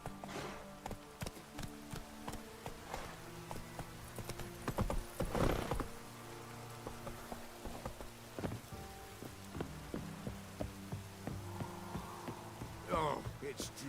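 Horse galloping in the video game The Witcher 3, rhythmic hoof clip-clops over steady rain, with music, a whinny and a brief voice mixed in.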